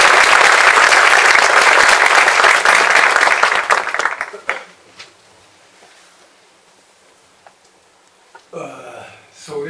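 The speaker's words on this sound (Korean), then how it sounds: "자, 뜨거운 박수 드리겠습니다." Loud, dense applause from a congregation at a Korean military cadet corps induction thanksgiving service, lasting about four seconds before cutting off, followed by quiet room noise and a brief voice near the end.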